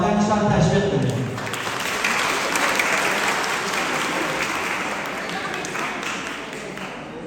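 An audience at a Hazara culture day gathering in Nairobi applauds to welcome a poet, dense clapping that starts strong and fades slowly over several seconds, with some voices and a brief tone early on.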